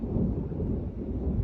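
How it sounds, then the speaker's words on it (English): Low, continuous rumble of thunder in a severe thunderstorm on Canada Day in Timmins, a steady broad roll lasting throughout with no voices. "I knew we were gonna get a good thunderstorm."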